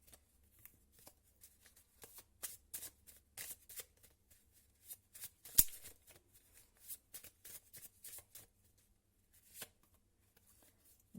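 Tarot cards being shuffled for a card reading, a long run of quick papery riffles and soft slaps in irregular bursts, close and quiet with no talking.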